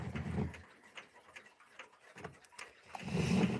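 An old Johannes clock from the 1920s or 30s ticks steadily, the soft clicks faint and close in a quiet room against a low background hum.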